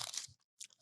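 Crunching bites of a Taco Bell double-decker crunchy taco, two close crisp bursts of chewing separated by a short silent pause, with no talk.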